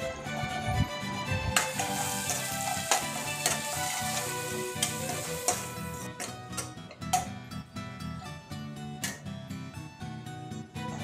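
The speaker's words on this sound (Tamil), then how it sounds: "தேவையான உப்பு சேர்த்துட்டு நல்லா கலந்துக்கோங்க" Mutton mince stirred in a hot pan with chilli powder, coriander and salt, steady sizzling and frying with repeated scraping strokes of a spoon, close and alone without talk.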